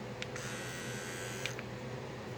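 A Manscaped Lawn Mower 3.0 electric shaver runs with a steady, thin buzzing drone, close and continuous, with no voices over it.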